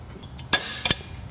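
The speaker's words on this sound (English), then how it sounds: "I'm gonna center punch this." Two sharp metal hammer strikes on a center punch marking a spot for drilling, spaced about a third of a second apart, loud and close against a quiet background.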